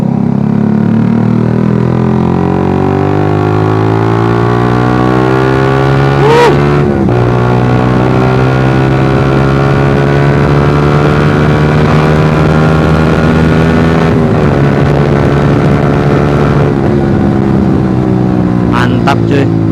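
A Suzuki GSX R150 motorcycle fitted with a Proliner exhaust revs loudly and close by, its engine climbing through sustained high revs with brief drops between pulls, with voices faint underneath.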